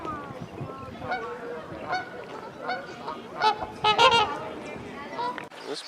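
Geese honk repeatedly at close range outdoors, several loud nasal calls rising over a person talking throughout.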